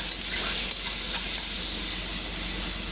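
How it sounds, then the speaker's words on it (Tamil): Onion, tomato, garlic and green chilli sauté in hot oil with a continuous dense sizzle and faint stirring, steady and close throughout with no voices. "வெங்காயம் தக்காளி பூண்டு பச்சை மிளகா எல்லாம் போட்டு நல்லா வதக்கிடுங்க."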